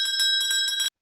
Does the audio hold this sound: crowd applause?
no